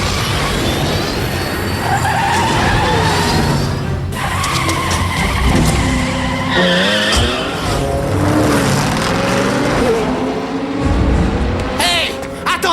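A cartoon car speeds off with loud, high tire squeals and a roaring engine during a race, while voices talk over the skidding.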